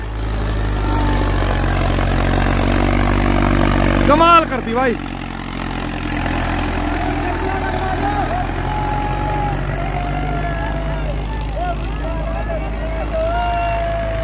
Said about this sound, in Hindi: बिल्कुल रेल की तरह लियो फिर रहा ट्रैक्टर